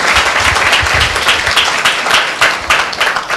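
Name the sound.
church congregation applause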